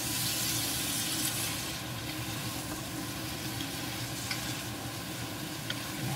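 Scrambled eggs being stirred into sizzling bitter gourd (ampalaya) in a frying pan, a steady close sizzle that is louder at first and then settles, with soft stirring clinks and no speech.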